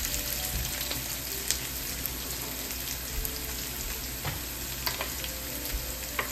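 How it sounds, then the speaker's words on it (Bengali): Onions sizzling steadily in a hot pan, a dense continuous crackle with occasional sharper pops and stirring scrapes, close and alone without talk. "পেঁয়াজটা আমি এখন 2-5 মিনিট ধরে এই মতন করে ভেজে নিয়েছি।"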